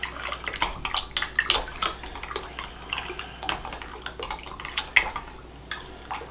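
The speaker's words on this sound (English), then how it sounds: "I'm going to grab this spoon that's right here, and I'm just going to stir that together." A spoon stirs yeast and sugar together in a bowl for brown bread, making rapid, irregular clinks and taps against the bowl with a light watery swish, close and fairly loud, with no talking.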